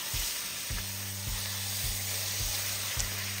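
A beef pot roast sears in a hot pan for a Southern-style pot roast, a steady bright sizzle running throughout with a few soft dull thumps as the meat shifts.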